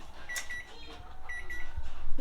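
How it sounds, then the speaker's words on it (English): A kitchen timer beeps while Southern-style chicken and giblet dressing bakes. Two short bursts of high, thin electronic beeping sound over quiet kitchen ambience. "The timer is going off"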